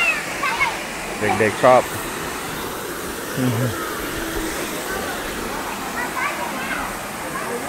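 Steady broadband rush of the Huai Mae Sai waterfall near Chiang Rai town, a constant moderate roar throughout, with a few brief spoken words over it near the start.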